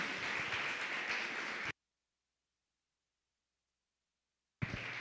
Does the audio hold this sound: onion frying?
no